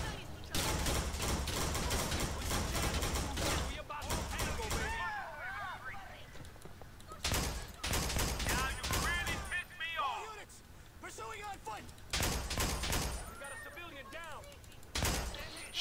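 Rapid bursts of gunfire erupt in a Grand Theft Auto IV shootout among vehicles, loud close volleys alternating with short pauses where whispery voices and game effects come through.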